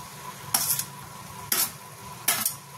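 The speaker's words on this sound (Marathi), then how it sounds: "आता ह्याच्यात आपण टोमॅटो घालूया" Tomatoes tipped into a pan of tender fenugreek greens, giving three short bursts of sizzling and stirring, roughly a second apart, with quiet cooking noise between them and no talking.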